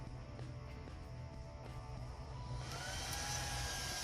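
A Dell R620 server powers up with a steady whoosh of spinning cooling fans that swells a little louder and brighter toward the end; no voices.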